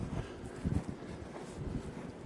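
Wind gusting across the microphone outdoors in Colorado, a low rumbling roar that swells and fades in uneven bursts, with no voices.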